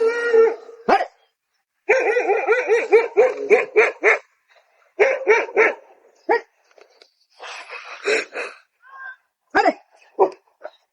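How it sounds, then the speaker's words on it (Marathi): Several dogs bark outdoors at a plot of land, close and loud in repeated bursts with yips and whines between, while people call out and talk at intervals. "चल बस ते कुत्रे यायला लागले इकडे"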